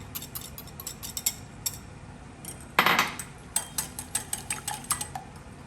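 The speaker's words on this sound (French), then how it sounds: "je vais mélanger mes œufs avec mon parmesan" Eggs beaten together with grated parmesan in a bowl for a carbonara-style sauce, a quick run of rhythmic clicking taps of utensil against the bowl, close and crisp, with a brief scraping swish midway and no voices.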